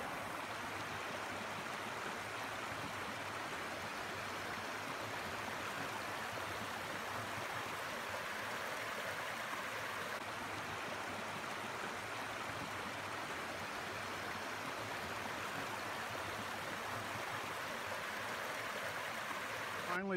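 A creek flows along a wooded hiking trail near a waterfall, giving a steady, even broadband rush of running water that holds unchanged for the whole stretch, fairly close with no voices.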